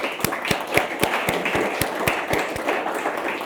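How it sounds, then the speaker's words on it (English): A round of applause from a conference audience for panel speakers at an event on data, power and culture, with steady rhythmic claps that stay bright and fairly close, with no talk over them. "let's start with giving them a round of applause for making time to actually join us today"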